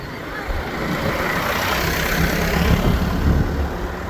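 Tractor engine running steadily during a rural wedding procession of tractors and trolleys on the road, a loud continuous broadband rumble with road and wind noise, no clear speech.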